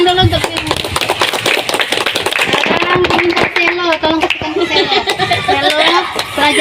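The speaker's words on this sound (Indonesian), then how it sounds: "Oke, tepuk tangan dulu untuk Selo." Children clap in a classroom, with scattered, uneven claps mixed with lively chatter, giggles and an adult voice talking over them.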